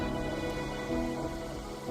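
Rain falls steadily in the video game Wuthering Waves, a dense, continuous patter blended with soft background music and no speech.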